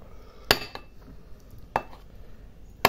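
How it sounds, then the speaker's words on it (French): A knife cutting butter into pieces on a board for a Polish apple cake, three sharp close clacks spaced apart over a quiet kitchen background. "je vais commencer par découper le beurre en morceaux"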